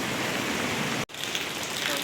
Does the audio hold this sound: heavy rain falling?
yes